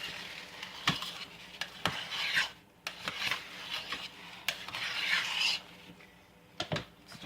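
A spoon stirs and scrapes through a thick batch of hot process sandalwood soap in a pot, with uneven rubbing swishes and occasional knocks against the side, close and moderately quiet.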